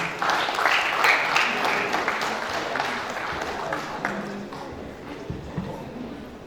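Audience at a national mental health workshop applauding, with dense clapping that swells at first and then gradually thins and fades, while a voice speaks over it toward the end.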